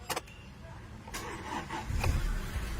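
A car engine cranks and catches after a hard-starting repair, short clicks giving way to a low rumble as it fires up and settles into a steady idle, close by with no talk.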